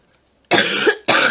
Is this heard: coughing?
yes